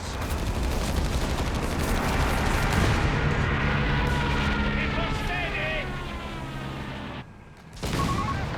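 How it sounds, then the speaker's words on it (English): Battlefield din from Company of Heroes 3 on the L'Aquila map: a steady roar of artillery and small-arms fire runs for several seconds under a speaking voice, drops out abruptly for a moment near the end, then resumes. "Oh boy, some artillery out the back."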